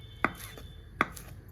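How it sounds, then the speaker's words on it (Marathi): Two crisp knife chops strike a cutting board as coriander leaves are finely cut, spaced under a second apart, close and clear against a quiet room. "चला आता कोथिंबीर बारीक करून घेऊ."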